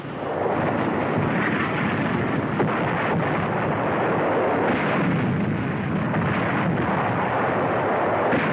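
Tank guns firing and shells striking in a World War II-era armored battle, a continuous dense roar of booming blasts and rumbling impacts that stays loud throughout, with no voices.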